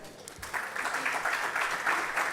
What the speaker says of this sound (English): Once again, a round of applause for him